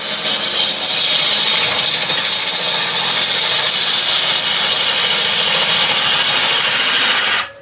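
A wood lathe roughs out a burr bowl, the gouge biting continuously with a loud, steady broadband roar that holds for about seven seconds before cutting off abruptly.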